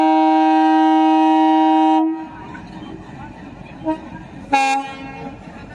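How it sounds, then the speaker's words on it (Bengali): A diesel locomotive hauling ten stone-loaded wagons rolls slowly onto the Nasipur rail bridge for a load test, sounding one long, loud horn blast, then a low rumbling run and a second short horn toot. "ডিজেল লোকোমোটিভ এবং 10টা ববিয়ান লোড পাথরের গাড়ি ধীরে ধীরে নসিপুর রেল ব্রিজের ভেতরে প্রবেশ করবে"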